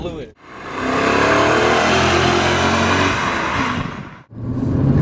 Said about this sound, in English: the instant response of this engine feels amazing